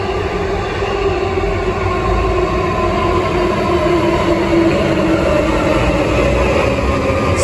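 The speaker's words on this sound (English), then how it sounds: "Here comes the train." C series train arriving at a station platform, a loud steady rumble of wheels and motors with sustained tonal whine holding throughout, close and continuous with no talk.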